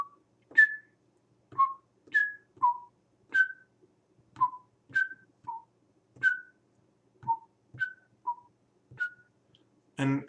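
A toy piano plays a very simple melody of single bell-like notes in a steady, unhurried rhythm, with a thin tone and light distance, as though the microphone sits out in an open field.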